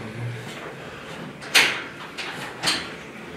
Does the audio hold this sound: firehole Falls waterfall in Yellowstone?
no